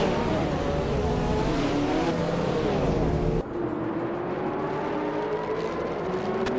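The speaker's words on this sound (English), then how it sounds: "The race for 4th is heating up between Tokens Flora and Hingle McCringleberry." Cars in a video game race roar past in a close battle for position, engines droning and shifting pitch with a sudden change in the mix midway, continuous and fairly loud, with no voices.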